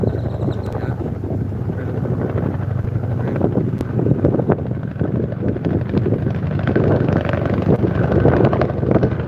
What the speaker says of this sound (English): that's a military helicopter right there